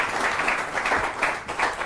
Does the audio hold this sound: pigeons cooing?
no